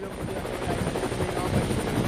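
A helicopter's steady rotor drone fills the whole stretch, a continuous rumbling chop that stays loud and even throughout, with a voice faintly present underneath.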